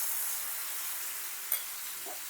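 Mustard paste hits hot oil in a pan, giving a steady bright sizzle with a sharp spit and a brief crackle partway through, close and on its own.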